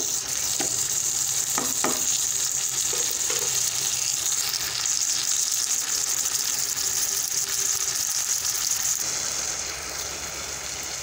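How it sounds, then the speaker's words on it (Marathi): Chopped onion and tomatoes fry uncovered in a pan for a village-style tomato curry, giving a steady, close sizzle with occasional scraping and stirring clicks and no talk, easing slightly near the end. "हे पहा आपले टमाटे आणि कांदा कसा भाजला गेलेला आहे ते आपण पाहू।"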